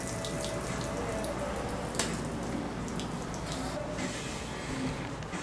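Water from a garden-hose flush runs steadily through a 1998 Sea-Doo GS 720 jet ski, a continuous splashing, trickling rush like a running tap, close and even with no talk.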